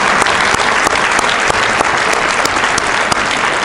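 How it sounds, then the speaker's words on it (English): Loud, dense applause from a crowd at a remembrance ceremony, a steady wash of clapping that holds throughout. "let's give everyone that participated and everyone that provided support for this another round of applause"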